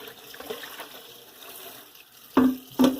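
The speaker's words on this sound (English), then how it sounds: "I like to give everything a good rinsing," Water runs over fruit being rinsed in a food washing bowl, a soft steady trickle with two louder splashing bursts close by near the end.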